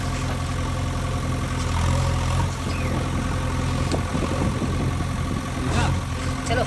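A JCB backhoe engine idles in a toy play scene, with a steady low diesel rumble running throughout and a few light knocks and clatters over it.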